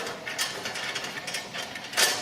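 A wrench works the top bolt of the guard on a Chapman ATV flail mower, giving short, close mechanical ratcheting clicks in uneven bursts, with a sharper, louder burst near the end.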